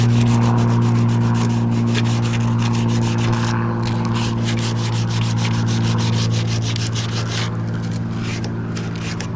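A 1968 AMC AMX car grille is sanded by hand with 80 grit sandpaper, a loud close rasping rub in quick repeated back-and-forth strokes, over a steady low mechanical hum.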